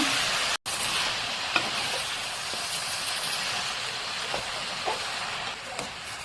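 Bottle gourd greens (lau shak) are stirred and fried in a pan, giving a steady close sizzle with occasional soft scrapes and taps of the spoon, interrupted by one brief dropout.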